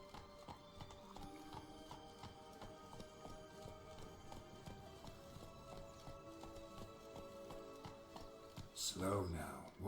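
A horse's hooves clip-clop in a steady galloping rhythm in The Witcher 3, with a neigh near the end, while a voice talks over it.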